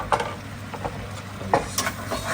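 Mushrooms, ginger and garlic stirred in a pan, with soft scraping strokes and a few sharper clinks over a light, steady sizzle, close and moderately quiet.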